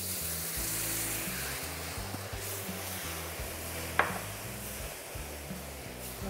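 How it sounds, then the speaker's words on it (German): Flour roux in a pan hissing and sizzling as vegetable stock is poured in, a steady frying crackle with a faint metallic clink midway. "Und jetzt schön mit der Gemüsebrühe ablöschen."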